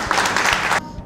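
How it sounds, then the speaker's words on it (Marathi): A short burst of clapping from several people during a Bali trip lasts under a second, then cuts off to near quiet. "वा वा वा टाळ्या"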